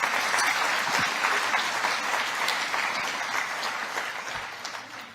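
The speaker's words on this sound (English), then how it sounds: "and this is to be applauded" Audience applause at a sustainable infrastructure development symposium: a steady, dense wash of clapping from a large crowd that holds for about five seconds and eases off slightly toward the end.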